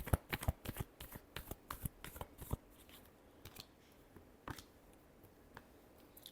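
Tarot cards being shuffled by hand: a run of quick, crisp riffling snaps and flicks, dense at first, then thinning to a few scattered taps, close and alone with no talking.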